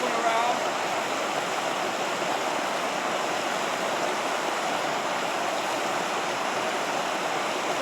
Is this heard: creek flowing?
yes